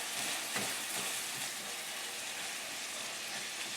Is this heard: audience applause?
no